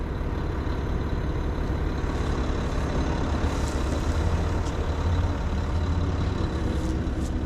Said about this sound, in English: Six-cylinder engine.